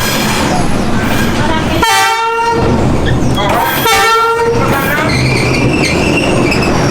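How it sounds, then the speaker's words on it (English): A train rumbles past at close range through a street in Hanoi, Vietnam, loud and continuous, with two long blasts of its horn cutting through the roar. "the train is going to go through at any minute"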